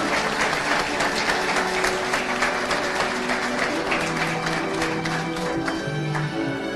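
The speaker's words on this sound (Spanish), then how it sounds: "Otro aplauso, por favor." A graduation ceremony audience applauds steadily, a dense, sustained clapping from a large crowd indoors with no speech over it.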